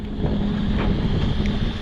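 Strong outdoor wind rumbling and buffeting the microphone in a continuous low roar by a roadside cooking spot, with no talking.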